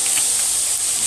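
Crushed green chili dropped into hot oil with crushed garlic in a pan, a steady close hiss of sizzling with no talk, for dhaba-style sev tameta curry.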